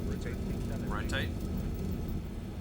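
Zibo Boeing 737-800 taking off in the X-Plane 12 flight simulator: a steady jet engine roar runs throughout, with a voice talking over it.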